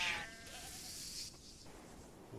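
Goat bleats in a video game military convoy escort scenario, a faint wavering cry at the start over a steady background hiss.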